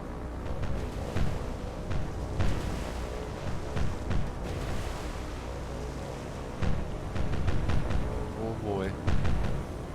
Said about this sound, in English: Ooh, and here they open fire.